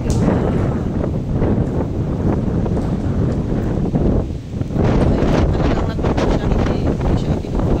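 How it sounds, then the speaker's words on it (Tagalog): Strong typhoon wind buffets the microphone in a steady, loud roar with gusty surges throughout, with faint voices beneath the noise. "medyo malakas pa pala ang hangin"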